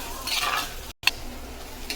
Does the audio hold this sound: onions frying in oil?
yes